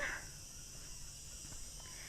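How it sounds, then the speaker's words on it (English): Crickets chirp steadily in a continuous high-pitched trill, soft and distant, over a quiet outdoor background on the Peñón de Ifach rock in Calpe, Spain. "it's nice to hear the crickets as well"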